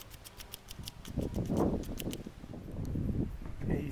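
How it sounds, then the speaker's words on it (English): Folded sandpaper scuffs back and forth in the grooves of an aero reel seat, a soft close rasping in short strokes with faint ticking. "I'm folding up my paper so I can get into the grooves"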